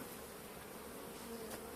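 Caucasian and Carniolan honeybees hum in a soft, steady drone, with one bee briefly passing nearer.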